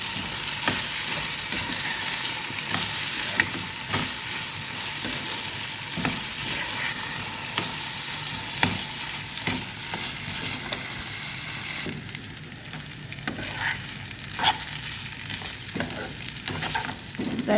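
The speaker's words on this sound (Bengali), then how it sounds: "চালটা ভাজা হয়ে গেছে" Soaked rice fries in a pan for Kashmiri pulao, giving a steady close sizzle with repeated scraping clicks from a stirring spoon. The frying quiets somewhat in the last few seconds, and no voices are heard.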